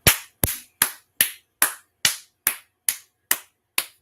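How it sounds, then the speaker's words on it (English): Ten sharp, evenly spaced claps in unison from a group of brothers, each a crisp loud smack with a quick decay, steady rhythm about two per second with silence between. "let's clap it up"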